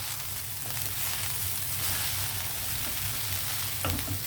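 Amaranth greens sizzle steadily in a hot pan with a peanut tempering as they're stirred, with a constant hiss and a few soft scrapes near the end.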